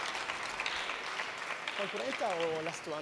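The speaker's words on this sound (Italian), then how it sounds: "Quindi fare un applauso aggiuntivo a Luca Curcio, alla cucina e al basso." A concert audience applauds after a jazz trio's band introductions, a steady wash of clapping that fills the moment while someone speaks over it near the end.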